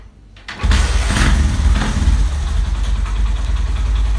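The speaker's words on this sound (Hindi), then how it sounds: "अब मैं यहाँ बाइक स्टार्ट करता हूँ।" A motorcycle engine fitted with a brake-linked back light catches after a brief crank, then settles into a loud, steady, close idle that rumbles on without a break.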